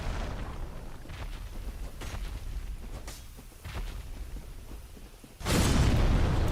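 A boss's explosion attack in a Dark Souls roguelike mod bursts in suddenly near the end, a loud, sustained broadband blast following several seconds of quieter thuds and combat rumble.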